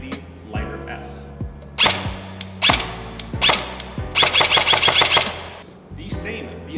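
Airsoft AEG shooting BLS .25 BBs through an Acetech Lighter tracer unit outdoors, sharp mechanical bursts of rapid cracks and clacks, several short strings ending in a fast volley, with a voice speaking between them.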